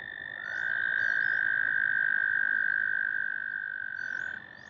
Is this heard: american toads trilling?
yes